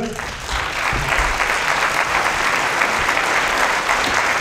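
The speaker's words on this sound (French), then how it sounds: "Merci de l'applaudir." Audience at a comics festival event at the Cinémathèque suisse applauding guest of honour Christophe Blain, a sustained, dense wave of many hands clapping that swells quickly and stays loud throughout.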